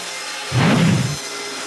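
A short saw stroke cuts through wood along a marked line, one brief rasping pass lasting under a second against quiet background hiss.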